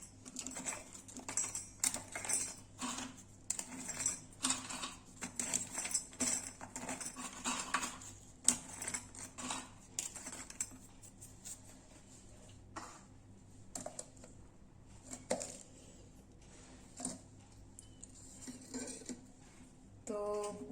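Oreo biscuits being crushed in a bowl make irregular close clicks, taps and crunchy scraping in bursts, busier at first and then sparser, with no talking.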